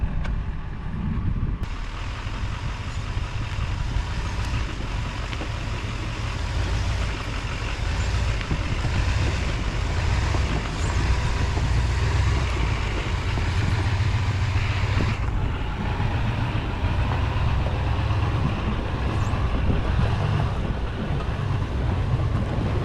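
A vehicle pulls a 1978 Chevy K5 Blazer, a rusty restoration project, into place in front of a Connex shipping container. A steady low engine rumble runs throughout, mixed with wind buffeting the microphone. Nobody speaks.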